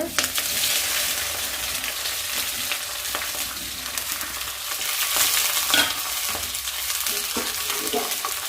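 Bitter gourd pieces fry in hot oil with crackling mustard seeds and curry leaves, giving a loud, continuous sizzle, and repeated scraping stirs sound throughout with no talking.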